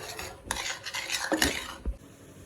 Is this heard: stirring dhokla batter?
yes